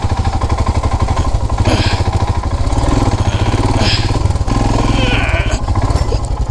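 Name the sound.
motorcycle engine running in neutral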